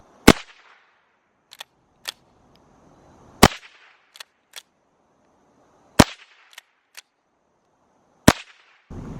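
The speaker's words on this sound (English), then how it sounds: "now I'm gonna shoot this cute little 22. I'm shooting 22 high velocity long rifle" Sharp, close single reports from a small .22 rifle firing high velocity long rifle rounds at a target. Four loud cracks come at a slow, even pace, with softer clicks and handling noises between them.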